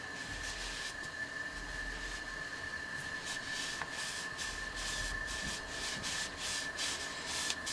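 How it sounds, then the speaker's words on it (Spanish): An oily rag rubs along the wooden handle of an old brace drill being restored, giving a soft, steady scrubbing friction in repeated strokes, fairly close, with no talk. "y ahora le damos un poco de trapito, que el trapo lo que tiene es grasa, aceite"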